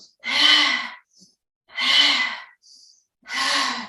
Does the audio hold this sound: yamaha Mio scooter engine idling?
no